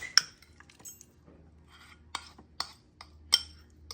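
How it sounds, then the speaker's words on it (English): A spoon or spatula scrapes and clinks against a bowl as mincemeat is stirred into cookie dough, in sparse sharp taps and soft rubbing with quiet pauses between. "Now I'm going to mix in 2 cups of the mincemeat."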